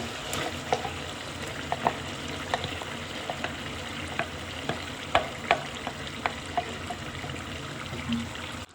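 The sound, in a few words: ground mint gravy paste sizzling as added to frying chicken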